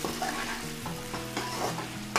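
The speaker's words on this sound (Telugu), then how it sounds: "1/2 టేబుల్ స్పూన్ ధనియాల పౌడర్, 1/2 టేబుల్ స్పూన్ జీలకర్ర పౌడర్ వేసుకొని ఒకసారి బాగా కలుపుకోవాలి" Coriander and cumin powder being stirred into a potato fry in a frying pan, a steady sizzle with repeated spoon scrapes against the pan, close and fairly loud, no voices.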